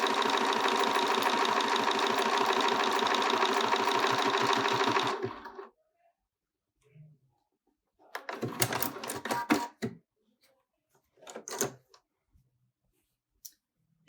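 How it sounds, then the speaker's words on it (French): Bernina sewing machine stitching an automatic buttonhole, a fast steady mechanical chatter for about five seconds that then stops, followed by scattered clicks and handling noises. "Ça va indiquer à la machine de réaliser l'étape suivante de la boutonnière."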